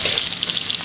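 Ginger and garlic sauté in a pan, giving a brief, loud, close hiss of frying with fine crackles and no talking.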